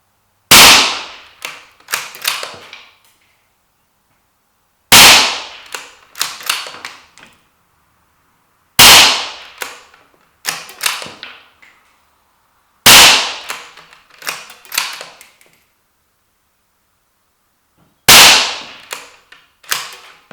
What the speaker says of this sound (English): let's just fire a few rounds through it